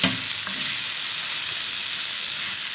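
Ginger and garlic fry in a cast iron sizzler pan with a loud, continuous hiss, opening with a brief clatter of stirring.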